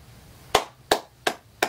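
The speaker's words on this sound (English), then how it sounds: "I gotta clap it up" Four sharp hand claps in a steady rhythm, close and crisp, against a quiet background.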